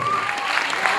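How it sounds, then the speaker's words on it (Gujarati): Audience applause for prize-winning schoolchildren at a Gujarat school competition ceremony held by Surat Rural Police: a dense, steady roar of many hands clapping that fills the whole moment, then drops away at the very end. "જોરદાર તાળીઓ થઈ જોઈએ મિત્રો."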